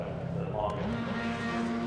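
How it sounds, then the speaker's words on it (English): Touring car engines rev on the grid at Sebring in a sim racing game. The revs climb in a rising tone just before the start, under an excited commentator's voice. "Revs rise."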